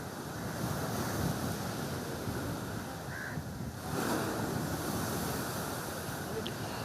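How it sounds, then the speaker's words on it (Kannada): Rough Arabian Sea waves roar onto the shore at Ankola, Uttara Kannada, during heavy monsoon rain, a dense continuous rumble with strong wind buffeting the microphone and a faint bird call briefly audible. "ನೋಡ್ತಾ ಇರ್ಬೋದು ಯಾವ ರೀತಿಯಾಗಿ ಕಡಲು ಕೂಡ ಅಬ್ಬರಿಸುವ ದೃಶ್ಯವನ್ನು"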